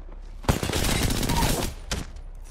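Rapid burst of automatic gunfire in the battle royale shooter Apex Legends, loud and close, a sustained volley of about a second followed by a shorter second burst, with no talking.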